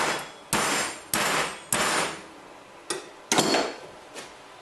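Metal bike rack mounts struck with a hammer to straighten them, six sharp ringing blows at an irregular pace, loud and close with no talk.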